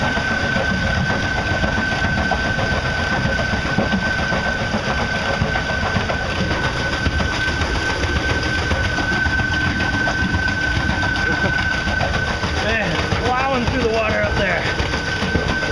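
A modified motor drives a Solar Snailer boat, running as a steady continuous hum under constant broadband water and wind noise, with a sustained tone throughout and faint talk or bird calls near the end.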